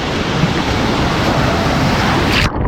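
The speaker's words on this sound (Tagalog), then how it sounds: "Ito na mga tol, napakalakas ng alon." Strong ocean waves roar continuously and loudly along the coast at Dingalan during stormy weather, a dense broadband rush with heavy wind buffeting before cutting off abruptly at the end.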